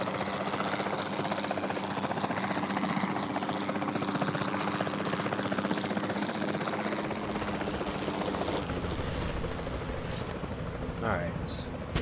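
A helicopter in the video game Jurassic World Evolution 2 drones with a continuous rotor chop and engine whine, steady and moderately loud throughout, shifting slightly in tone near the end.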